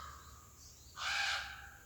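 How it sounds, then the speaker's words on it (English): A loud crow caw rings out outdoors after a faint background call, a single harsh squawking burst that is fairly close and clear against quiet ambience. "I don't know what those birds are saying"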